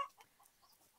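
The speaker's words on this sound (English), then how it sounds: "the chickens have just decided that they want to kick off" Chickens clucking in short, excited bursts, a fussing flock close by with several brief calls scattered across one second, moderately loud and with no talk over them.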